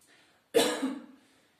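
A single sharp cough bursts out after a short quiet lead-in, loud and close, trailing off over about a second, performed as a demonstration during an abdominal breathing exercise.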